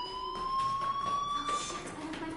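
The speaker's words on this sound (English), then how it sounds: "do you hear that fire alarm? That means you should be outside." A fire alarm rings in the Life Is Strange: Before the Storm video game, a steady high electronic tone that sounds continuously at moderate loudness over game ambience.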